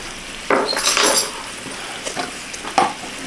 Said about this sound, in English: Give this a little stir, stir, stir, stir.